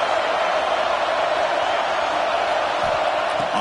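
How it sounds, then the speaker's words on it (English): Stadium crowd at a college football game in a hostile road environment, a steady, dense roar of massed voices filling the whole clip with no break, loud and continuous, with faint whoops rising near the end. "Listen to the crowd energy here in the early going"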